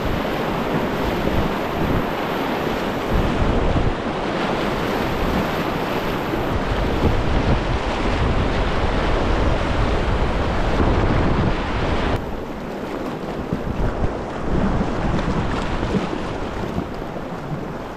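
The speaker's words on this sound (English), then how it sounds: "So we got to cross the river first, cross the Rio Grande" Rushing water of the Rio Grande as someone wades across, a loud continuous churning wash with heavy wind buffeting the microphone and no talking.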